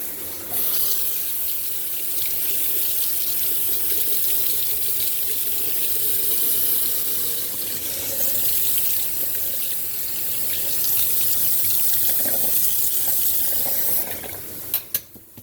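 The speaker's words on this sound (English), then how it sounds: "Rinsing off my tongue." A kitchen tap runs continuously and fairly loudly into a sink, a steady rushing stream with occasional small clatters near the end.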